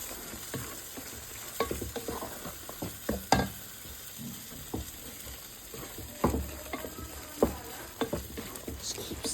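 Shredded roti for cheese kottu being stirred in a hot pan, a soft continuous sizzle punctuated by irregular scraping knocks of the utensil against the pan.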